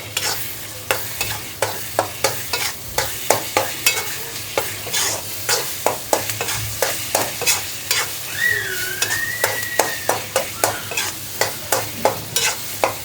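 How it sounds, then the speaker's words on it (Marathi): Mashed eggplant being stirred into sizzling masala in a frying pan: a steady, close sizzle under regular rhythmic scraping strokes of a spoon, about two per second, continuing throughout. "आता हे मॅश केलेलं वांग टाकते त्याच्यात आणि हे पण चांगलं एकजीव होईपर्यंत मिक्स करून घेते."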